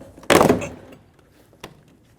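A plastic door panel clip on a Scion xB pops loose with one sharp, close snap and brief rattle, followed by a smaller click a second later in a quiet garage.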